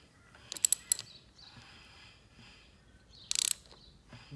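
An engine crankshaft turned slowly by hand clockwise gives off two short bursts of bright mechanical clicking and whirring, the first a quick cluster of ticks, the second a brief rattle, over faint background noise.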